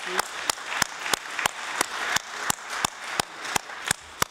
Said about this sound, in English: please could I ask you to join me in thanking and applauding all of our speakers